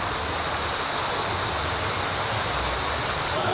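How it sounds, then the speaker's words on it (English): Waterfall at Big Bear Mountain in Dollywood theme park, a steady full-band rush of falling water heard nearby and alone, constant throughout. "Here is the absolutely gorgeous waterfall, part of Big Bear Mountain."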